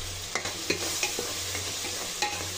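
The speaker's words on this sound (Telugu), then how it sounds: "టమాటాలంతా ఒకసారి కలుపుకుందామండి." Tomatoes cooking in a pan for chicken biryani are stirred, a steady sizzle and frying hiss with repeated soft scraping strokes of the utensil.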